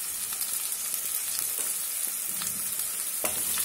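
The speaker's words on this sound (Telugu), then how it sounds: "ఆనియన్స్ వేగుతున్నాయి కదా" Onions fry in oil seasoned with salt and turmeric for a chicken curry, a steady close sizzle with faint scraping stir clicks running through, no voices.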